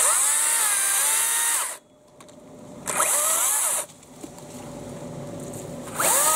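A Makita 36V brushless battery chainsaw cuts through wood, its high whine bogging down under load and rising again, pausing twice between cuts before revving back up nearby.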